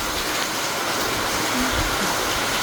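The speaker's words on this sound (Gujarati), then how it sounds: "વરસાદ તો અવિરત ચાલુ જ છે" Continuous rain falls as a steady, broadband wash of noise, even and unbroken throughout, with no talk over it.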